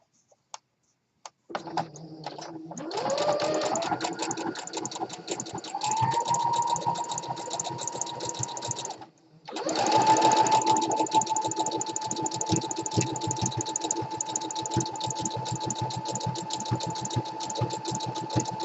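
A sewing machine stitches elastic into a waistband, running in a steady close whir that starts, pauses briefly about halfway, then resumes and continues to the end, with no talking.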